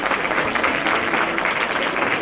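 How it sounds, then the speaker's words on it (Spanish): Applause for a panelist at a panel on a new personal data protection law, a short burst of dense, even clapping from a seated audience, moderately loud and unbroken. "Un aplauso."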